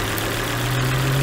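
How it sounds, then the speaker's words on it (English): A car engine with a faulty ignition coil idles steadily up close, with a low, uneven hum that dips slightly as it misfires and the revs drop, then holds on. "Again, the engine drops the revs and comes back"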